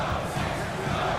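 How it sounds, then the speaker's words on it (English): Basketball arena crowd in NBA 2K23 roaring in awe after a Mitchell dunk, a dense, sustained wash of cheering voices. "this crowd is in awe of that Mitchell dunk"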